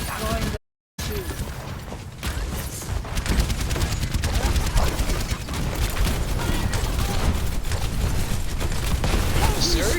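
Gunfire and mechanical clatter during a competitive video game match, steady and loud under excited commentary, with a brief dropout near the start.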